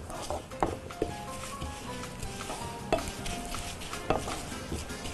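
A utensil scrapes and clinks against a pan in a steady stirring rhythm, with a soft sizzle running underneath throughout.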